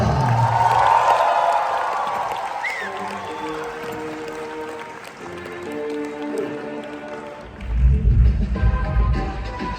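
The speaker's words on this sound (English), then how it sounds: "Give a massive round of applause and welcome to the stage, Anirudh Mehta." An audience at the Curious Design Yatra 2025 stage applauds and cheers to welcome a speaker. A broad wash of clapping and cheers swells at the start, music-like tones run through the middle, and the crowd noise rises again near the end.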